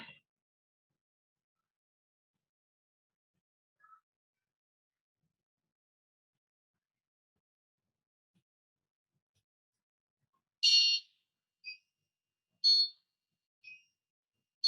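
Small buzzer driven by an ESP8266 NodeMCU board, beeping in short bursts at roughly one-second intervals, thin and high-pitched, starting after a long silence and fairly faint.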